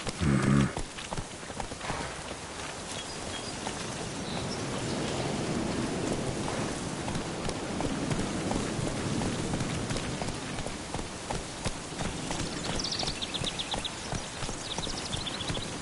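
Roach, a horse in The Witcher 3 game, moves along with soft steady hoofbeats in a continuous rhythm under a constant wash of rain-like ambient noise.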